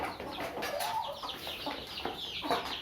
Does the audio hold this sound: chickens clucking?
yes